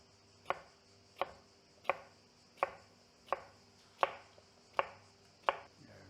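Eight evenly spaced knife chops on a cutting board while cutting ingredients for a potato salad, each a crisp close knock about seven tenths of a second apart over a faint steady hum.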